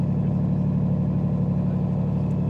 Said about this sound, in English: Sorry about the engine noise.